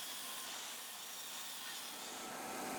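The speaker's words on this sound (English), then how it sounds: "Take one of the 2x1s and rip it in half." A saw rips a 2x1 wood board in half lengthwise, a continuous, fairly faint hissing cut that holds steady for about three seconds with no talk.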